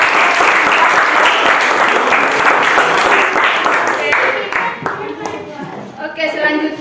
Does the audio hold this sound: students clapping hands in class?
yes